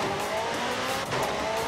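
McLaren supercar driven in the racing game Forza Horizon 5, engine droning steadily at speed with faint tyre squeal, loud and continuous throughout.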